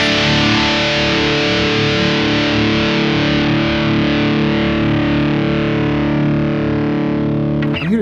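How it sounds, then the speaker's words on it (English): A Vox MV50 small amp gives a Mesa Boogie-style distorted electric guitar, one loud sustained chord ringing for about eight seconds before a short pick noise at the end, with no voice. "throwing that Mesa Boogie sound into it sounds pretty killer"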